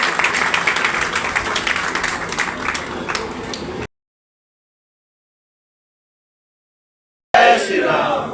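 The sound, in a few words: crowd applause welcoming new committee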